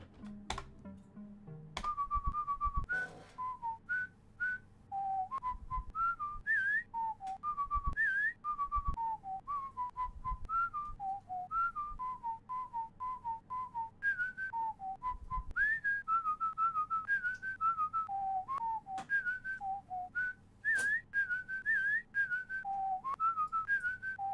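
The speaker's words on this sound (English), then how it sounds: "He asks to whistle you an old gnomish tune." A long, melodic whistled tune in the style of an old gnomish folk song, performed as a bard's game entry; clear solo whistling with quick pitch leaps and phrases running continuously, close and fairly loud, with a few faint clicks underneath.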